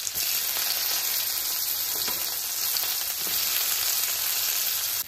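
Onions fry in a pan of hot oil left over from frying paneer, giving a loud, dense, unbroken sizzle close by with faint stirring and no voices.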